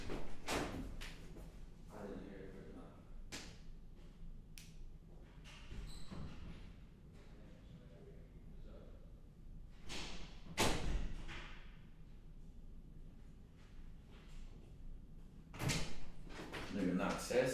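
A door near Langthwaite... no: a door nearby thumps and slides open with several bumps and knocks scattered through, a few louder thuds standing out, with quiet talk in the room between them.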